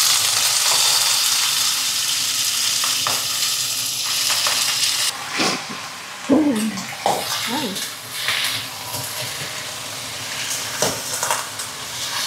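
Chicken frying in a pan with spices, a loud broad sizzle that settles after a few seconds into stirring scrapes and spattering, with a voice talking over it.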